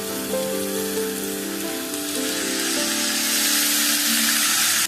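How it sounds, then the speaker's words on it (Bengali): Vegetables and broken wheat (dalia) sizzle in a pan while being stir-fried for dalia pulao, a steady close frying hiss under faint background music tones. "ডালিয়া দিয়ে একটু ভালোভাবে কষিয়ে নেব"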